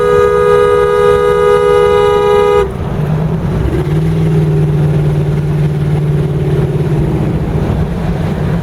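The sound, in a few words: Ford Explorer engine with a bad exhaust leak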